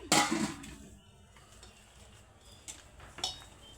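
Chopped coriander is stirred into black-eyed pea vada batter in a bowl: a sharp clatter of a utensil against the dish opens, followed by soft scraping and a few light knocks.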